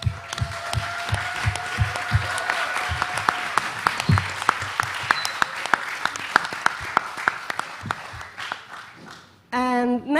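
A crowd claps warmly at the Rototom Sunsplash reggae festival, with sharp individual claps over a soft tonal background. The applause runs steadily for about nine seconds, then a voice starts speaking loudly at the close.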